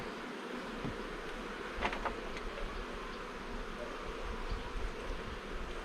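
Honey bees hum in a steady, close swarm drone at a hive in a Ukrainian apiary, with no voices over the continuous buzz.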